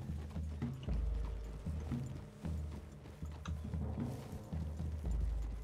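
Horse hooves clip-clop in Red Dead Redemption 2, with several horses moving at a steady walking rhythm, soft and moderately close, along with faint tack and gear rattles and no speech.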